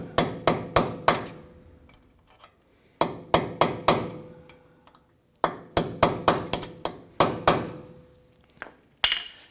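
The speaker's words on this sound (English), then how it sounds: "I'm going to use a punch" A hammer striking a punch to open the dimpled axle nut tabs on a 2017-2020 Hyundai Elantra front hub: loud, close, ringing metallic blows in quick bursts of four to five, separated by short pauses.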